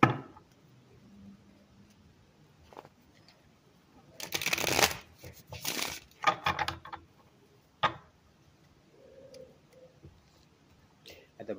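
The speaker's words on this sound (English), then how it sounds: "One more shuffle." A deck of tarot cards riffled and shuffled by hand in close bursts of crisp flutter and clatter, with quiet handling clicks between them and no spoken voice.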